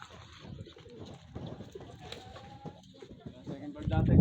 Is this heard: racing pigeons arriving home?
yes